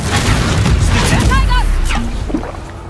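The Confringo fire spell in Hogwarts Legacy gives a loud, booming explosive burst under dense, continuous noise from the game's combat, and a voice calls out briefly.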